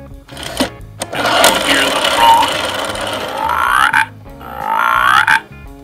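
A Fisher-Price See 'n Say toy croaks like a frog in two long, buzzy, rising calls over a whirring mechanism, with brief clicks at the start.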